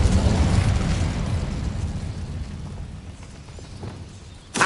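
An Incendio fire spell cast in a video game, a loud rumbling whoosh of flame that swells at once and slowly dies away, ending with a sharp burst.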